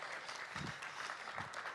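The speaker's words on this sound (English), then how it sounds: "Would you please give him a warm round of applause as we invite him to the stage." A congregation at a church service gives a speaker a warm round of applause as he is invited to the stage. The clapping is soft and distant, with a couple of low murmurs beneath it.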